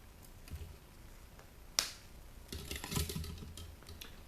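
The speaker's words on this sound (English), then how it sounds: "And on the ballast here, we just snip it." Wire cutters snip through a light ballast, giving one sharp, close crack and then a short burst of faint rattling clicks in a quiet room with no voices.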